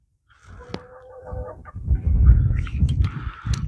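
Chickens cluck in a handful of short calls over rustling, shuffling farmyard noise.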